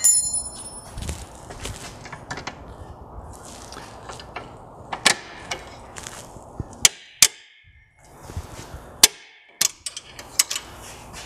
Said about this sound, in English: now we're going to loosen our 13 on the sway bar. And we're going to pull those bolts out.